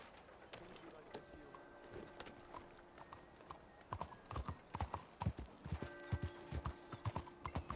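Hooves of a horse in Red Dead Redemption 2 start sparse and pick up into a clear, close clip-clop rhythm, with faint creaking tack and background game sounds, no voices over it.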